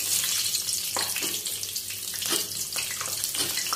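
Green chilies hit hot oil in a pan for a Kolhapuri chutney, giving a steady, loud, close sizzle and crackle with brief surges of spitting and no voices.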